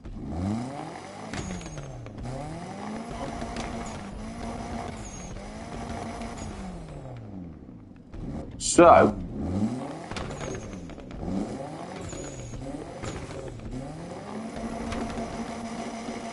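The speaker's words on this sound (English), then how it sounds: "Let's just listen to the engine." A Mitsubishi Eclipse engine in Need For Speed Unbound idles with a smooth hum, then revs repeatedly, pitch rising and falling in waves, with one sharp sudden burst midway.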